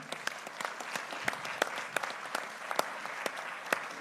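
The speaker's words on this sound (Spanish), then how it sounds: "Vamos a darle un aplauso, ¿no?" Applause from an audience at a university panel session on the automotive industry, steady moderate clapping throughout, slightly distant.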